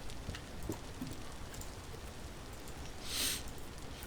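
Steady rain falls in the survival game Vintage Story, a soft continuous hiss at low level with a brief brighter swell near the end and no talking.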